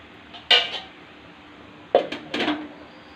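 A metal lid is set onto a cooking pot of chicken kosha, with a sharp clatter followed by a second burst of rattling metal clanks as it settles into place.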